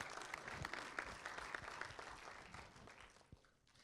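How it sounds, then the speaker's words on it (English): Audience applause at an LGBTIQAP+ awareness panel, a short dense round of clapping that fades toward the end, somewhat distant and quiet. "Yes, a round of applause."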